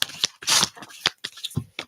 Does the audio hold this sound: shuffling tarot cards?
yes